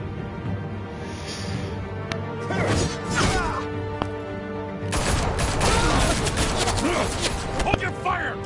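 Sharp gunshots and crashing impacts ring out in the video game Batman: A Telltale Story, several irregular bursts among scattered hits while a character's voice speaks over the action.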